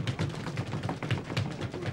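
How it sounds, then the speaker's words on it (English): An audience stamping their feet in a theatre: a quick, uneven run of low thuds and taps, moderately loud and without voices. "Foot stamping going on there."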